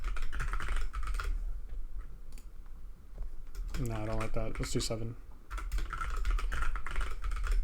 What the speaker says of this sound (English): That typing speed goes crazy